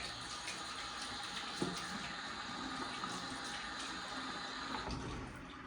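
Water running steadily from a bathroom sink tap while someone wets their face, a constant close rushing splash with a few small bumps and splashes, no talk over it.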